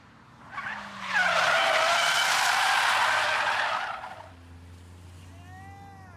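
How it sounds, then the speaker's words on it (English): A front-wheel-drive family car drifting through a turn makes a loud, sustained tyre squeal of about three seconds that rises and fades, with engine hum underneath and no voices. "So that's front wheel drive drifting."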